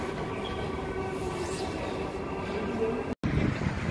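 Steady rumble of a driverless metro train running along the track in Istanbul, a continuous close hum with a brief sharp cutout near the end.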